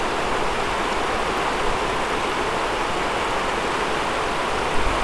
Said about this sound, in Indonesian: Jadi ini istilahnya campur sama aliran sungai lokal biasa.